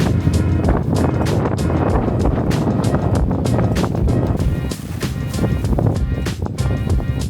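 Strong wind gusts across open grassy fields beside a river, buffeting loudly and unevenly in repeated bursts of rumbling roar.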